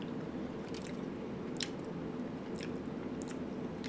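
Close, wet chewing of a barf and booger flavored Bean Boozled jelly bean, eaten in a Blizzard, with soft squishy bites and a few sharper crunchy clicks spread steadily through the clip, no talking.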